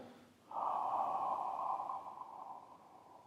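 A long, steady breath pushed out during a Pilates exercise while the spine rolls down slowly, a broad airy rush lasting about one and a half seconds that fades gradually, close and fairly loud with no talking.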